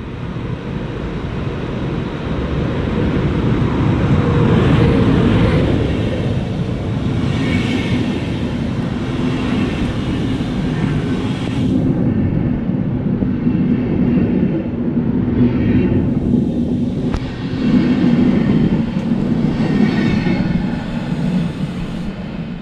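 A train rumbles steadily past at Ingolstadt station, a loud, continuous roar of wheels and engine that holds for over twenty seconds with no talk.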